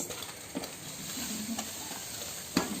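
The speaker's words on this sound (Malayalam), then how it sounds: "ഇതൊന്ന് ഇളക്കി നോക്കട്ടെ എങ്ങനെയുണ്ടെന്ന്" Semolina (rava) being stirred in a frying pan, a soft continuous scraping sizzle with a few sharper utensil knocks near the start and end, fairly quiet and close.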